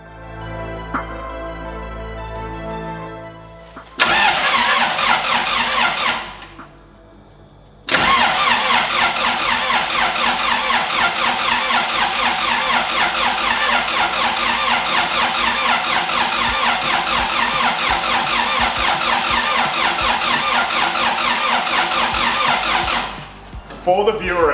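Race car engine cranking over to build oil pressure, with a steady, loud mechanical churn running for long stretches and one short pause partway through.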